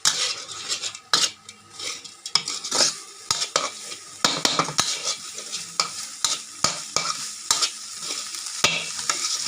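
Field rat stir-fried pad kaphrao style with holy basil, fish sauce and seasoning, a spatula scraping and clinking steadily against the pan over a constant close sizzle, with no voices.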